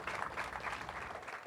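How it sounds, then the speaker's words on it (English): A crowd applauds steadily at a community event celebrating an affordable housing partnership in Louisville, a dense, even patter of many hands clapping throughout without a break. "How about a round of applause?"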